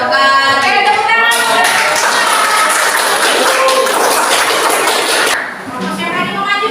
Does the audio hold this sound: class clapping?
yes